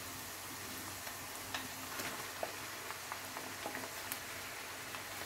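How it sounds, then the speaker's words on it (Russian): Minced meat sizzles and frying in a pan together with softened onions, a steady close hiss with scattered small crackles and pops and no voices. "И обжариваем фарш."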